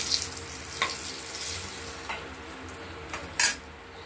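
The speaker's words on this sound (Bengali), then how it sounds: "আলুগুলো ভাজতে দিয়েছিলাম, আলুগুলো দিয়ে দিলাম, একটু লালচে করে ভেজে নেব" Potatoes fry in oil with whole spices, giving a soft, even sizzle broken by occasional crackles and a sharper pop near the end; no speech.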